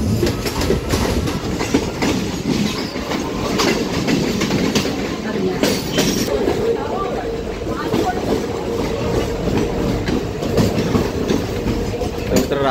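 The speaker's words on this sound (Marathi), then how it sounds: "रात्रीचे तुम्हाला ट्रेन दाखवतो आजूबाजूच्या लोकल कशा चालल्यात" Mumbai local trains running at night near CSMT, a loud continuous rumble with rhythmic wheel clatter on the rails, heard close up throughout.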